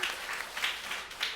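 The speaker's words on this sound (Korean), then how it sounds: "우리 다시 한번 우리 팔로교회 손님들 박수로 환영할까요?" A church congregation at a Sunday service applauds to welcome guests, a brief, soft, even wash of clapping from the pews.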